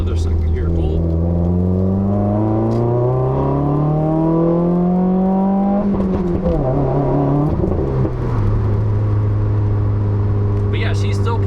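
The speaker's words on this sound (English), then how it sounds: "Let's get another second gear pull." The engine of a 2015 Subaru WRX revs through a second-gear pull. It sounds loud and close, rising steadily in pitch, then dropping briefly at the shift before climbing again.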